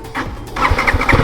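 A BMW G 310 GS motorcycle engine cranks briefly and catches, firing into a rough, close mid-pitched run.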